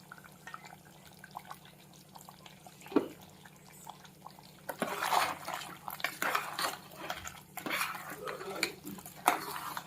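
Prepared masala being stirred into cooked mutton in a pressure cooker pot, with a spoon scraping and clanking against the metal, soft wet stirring sounds, and louder knocks in the second half.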